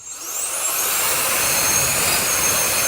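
A cheap Temu gadget switched into turbo mode whirs loudly and steadily, a dense high-pitched motor roar that holds for the whole stretch with no talk over it.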